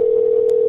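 A steady telephone dial tone sounds while someone calls a home number, a single continuous tone close to the earpiece, with a brief click partway through.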